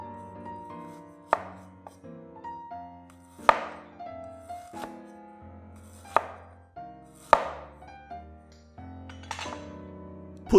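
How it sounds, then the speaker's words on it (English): A knife cuts through ginger on a board in a series of distinct chopping knocks, spaced about a second or two apart, close and clear over a quiet room with faint tonal background. "Slice up 4 slices of ginger."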